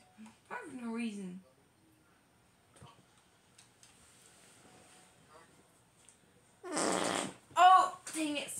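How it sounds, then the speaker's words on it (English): A loud, short fart breaks out at the start, then someone talks quietly, and bursts of louder talk or noise follow near the end. "Yeah, I farted in the video also."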